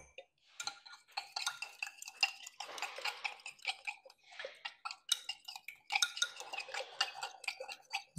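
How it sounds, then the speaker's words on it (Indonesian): Floor cleaner solution being stirred in a container, producing quiet irregular clinks and scrapes in quick light bursts, close but faint. "Aduk juga."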